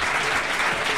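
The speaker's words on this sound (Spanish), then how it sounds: "un aplauso para la gente emprendedora de Huelva" Studio audience at a Spanish comedy talk show breaks into steady, dense applause, loud and close, filling the whole moment without any talk over it.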